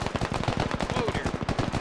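In the military shooter Squad, a rapid burst of automatic gunfire rattles steadily through the whole short stretch, dense, mid-distance and fairly loud.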